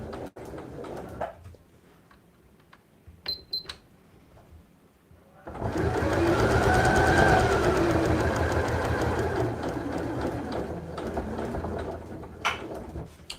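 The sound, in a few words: sewing machine stitching a side pouch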